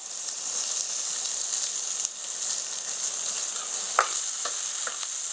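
Continuous sizzling of onions frying in a pan, close and steady, with a few soft clinks of stirring.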